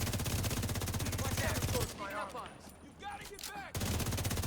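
Rapid automatic gunfire in a video game, a dense sustained burst that cuts off for a stretch of quieter mixed sounds before a second heavy burst resumes near the end.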